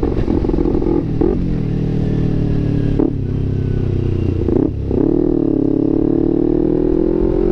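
A Kawasaki Ninja 250 fuel-injected motorcycle engine revs hard and loud, the throttle dipping briefly a few times before roaring back up, sustained throughout.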